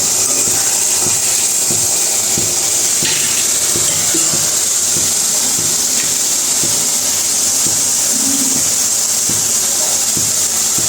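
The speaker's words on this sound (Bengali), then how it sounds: "সব তেল দিয়ে রান্না করতেছি" Fish curry frying in plenty of oil in a pan, a steady broadband hiss and sizzle that runs unbroken and fairly loud throughout, with faint clinks and a brief low murmur now and then.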